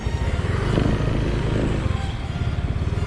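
Yamaha Mio i 125 scooter, a 2015 model, riding along with a steady close engine drone and road rumble, loud and continuous throughout with no talk.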